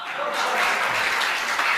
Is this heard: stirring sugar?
no